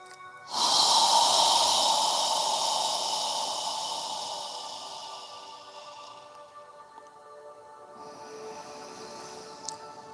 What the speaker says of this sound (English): we're slowly inhaling and slowly exhaling